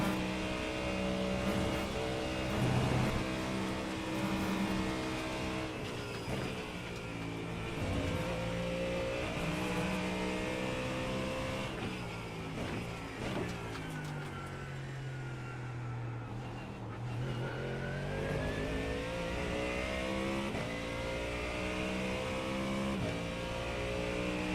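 A Mustang GT3 race car in iRacing drones steadily, its engine note climbing and dropping through gear changes at a constant, fairly quiet level, with no voices over it.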